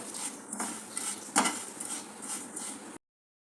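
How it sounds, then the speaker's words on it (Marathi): Fifty grams of vermicelli is lightly roasted in a pan for sheer khurma. A utensil scrapes and clinks against the pan up close in irregular stirring strokes, then goes silent near the end. "शेवई पण मी हलकीशी भाजून घेतली आहे"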